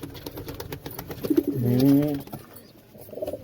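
A pigeon in a pigeon house gives a low throaty coo near the middle, close by, amid soft rustling and background noise.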